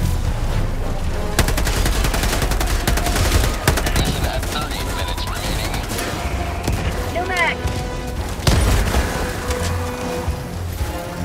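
Rapid bursts of gunfire and booming explosions in the video game Helldivers 2 crackle almost continuously at close range, loud and chaotic.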